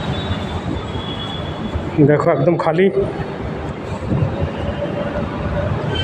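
A Delhi Metro train rumbles past near Lajpat Nagar station with a brief metallic squeal of wheels amid traffic-like background noise, while a person speaks briefly over it.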